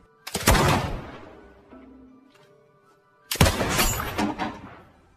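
Pistol shots in a Le Comte de Monte Cristo film scene: two loud, sharp cracks several seconds apart, each with a long ringing tail, with quiet tones between them.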